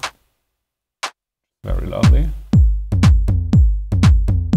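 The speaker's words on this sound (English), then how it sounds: "which is a more human sounding clap that actually doesn't even just have one impact, but as you can see, it's several claps layered." Layered electronic clap hits from a house sample pack, each several claps stacked for a human feel, repeat in a steady run of about seven close, punchy hits after a few sparse earlier sounds and brief speech.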